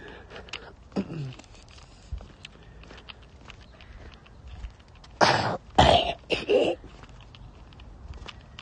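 A few short, harsh coughs in quick succession midway through, over quiet outdoor background with faint scattered knocks and footsteps.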